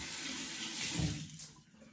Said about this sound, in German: Wasser ins Gesicht und dann wird die Seife aufgeschlagen